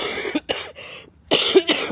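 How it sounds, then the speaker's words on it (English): A woman coughs outdoors in a forest, two sharp harsh bursts, a brief pause, then two more close and loud. "my cough"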